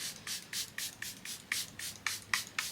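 About ten quick hissing bursts of perfume spray in a steady rhythm, close by, with quiet pauses between them.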